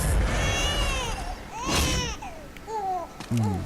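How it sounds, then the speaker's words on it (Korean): A baby's whimpering, babbling cries in the video game Bloodborne, in the Mergo's Wet Nurse area, rise and fall in short wails over a low rumbling background. "저는 이제 애기 소리가 나는데 애기를 잡아야 돼요?"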